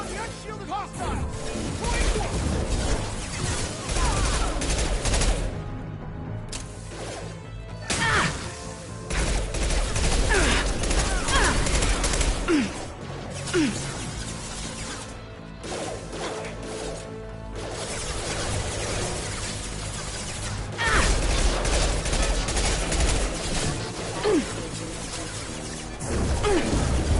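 Dense gunfire from a firefight in the video game Mass Effect, with continuous overlapping shots, bursts and impacts under sustained loud action and occasional voices.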